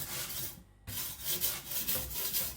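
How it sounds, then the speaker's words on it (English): A custom Chinese cleaver is rubbed across a 400-grit whetstone in quick back-and-forth strokes, a soft rhythmic gritty scraping with one brief pause near the start. "Sharpening at a lower angle, and I'm gonna go to my 400 and take it down again."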